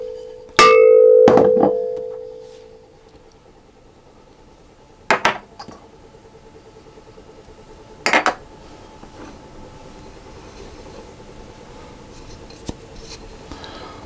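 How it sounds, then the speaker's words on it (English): Dry cake ingredients for a devil's food cake going into a stand mixer bowl: a loud opening clatter of metal and glass, then two shorter clinks in a quiet room. "I'm going to put the dry ingredients into the bowl of my stand mixer"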